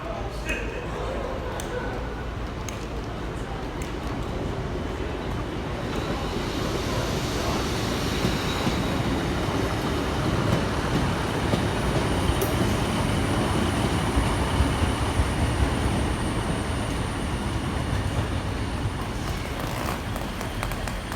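A single-unit class 150 passenger train, number 150104, running on the 11:17 service to Leeds via Barnsley makes a continuous rumbling roar that swells in the middle and fades slightly toward the end, heard close from the trackside.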